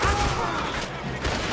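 A dense, continuous barrage of gunfire in the video game Red Dead Redemption 2, loud and rolling without clear pauses for over a second.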